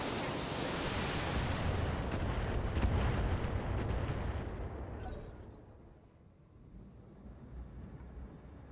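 Missile strikes in a video game land as a rumbling, booming roar of blasts, loud and heavy for several seconds before fading into a low distant wash.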